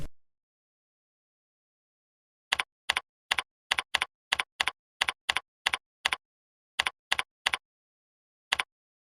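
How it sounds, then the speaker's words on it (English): Sharp isolated key presses on a computer keyboard, about twenty distinct clicks in a loose uneven rhythm after a short silence, close and clear with nothing else around them. "You can now start typing your text here."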